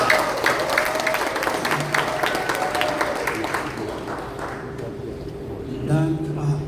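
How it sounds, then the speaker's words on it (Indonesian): Audience applause at a church gathering in Indonesia, a dense wash of clapping that holds steady, thins toward the end, then swells briefly with some voices mixed in. "Tepuk tangan jangan tanggung-tanggung."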